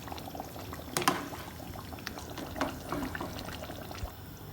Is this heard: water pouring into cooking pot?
yes